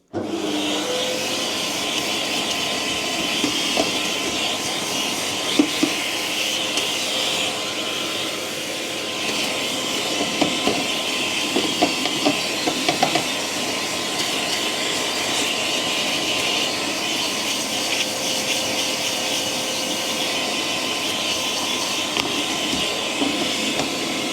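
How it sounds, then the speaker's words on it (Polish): Vacuum cleaner running continuously close by while dusting a Wahoo Kickr Headwind trainer fan, a loud steady whine with airy roar and occasional brief knocks and scrapes as the nozzle moves, no talk. "odpalę jednak odkurzacz"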